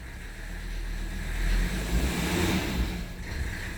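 A Mercedes 300SD W126 with its OM617 diesel engine runs close by, a steady, coarse rumble that swells slightly and settles without any voices over it.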